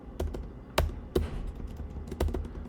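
Typing on a computer keyboard during a coding interview, close and quiet, with irregular clusters of sharp key taps and pauses between them.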